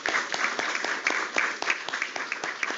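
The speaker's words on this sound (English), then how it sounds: "Give you a nice round of applause for everything that you've done." Applause at a board of regents quarterly board meeting, a modest group clapping steadily in a room, fairly faint, with distinct individual claps audible.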